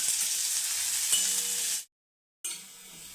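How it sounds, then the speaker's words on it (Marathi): Sliced onion sizzles steadily in a pan as it fries toward reddish-brown for a Khandeshi sev bhaji masala, a bright continuous crackle that cuts out briefly before resuming. "कांदा आता छान आपण असा लालसर भाजून घेऊ"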